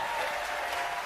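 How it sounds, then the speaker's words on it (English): Audience applause at a live panel discussion on marriage, a dense steady wash of clapping hands from a crowd, sustained and even throughout the short moment. "We clap to that."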